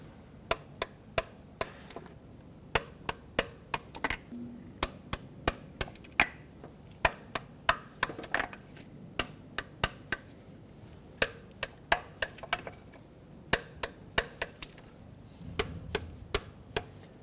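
A torque wrench clicks as bolts are tightened to 89 inch-pounds while replacing fuel injectors on a 1998–2011 Ford Ranger 4.0L V6, sharp isolated clicks in irregular clusters, close and clear.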